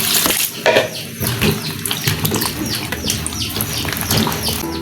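Water splashes and trickles as a bottle gourd is washed by hand, with close uneven sloshing and rubbing and faint bird chirps in the background.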